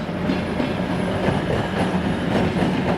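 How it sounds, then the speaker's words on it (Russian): A passenger train or diesel locomotive rolls past nearby in Bishkek, a steady loud rumble with faint rhythmic clicking of wheels over rail joints throughout. "Вот, смотрите, вот он поезд идет. Или тепловоз."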